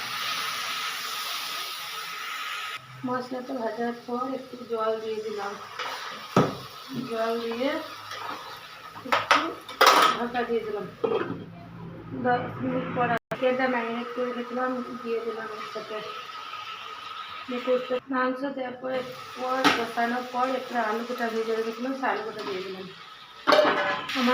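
Meat masala with Kashmiri chilli powder being stirred in a pot: repeated clattering of a utensil against the pot and soft hissing, running beneath almost continuous talk.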